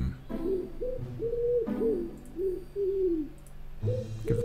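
Several soft pigeon coos from an odd-looking pigeon in the comical point-and-click game Mr. Burny, Light My Fire, rising and falling in a steady rhythmic series, close and clear.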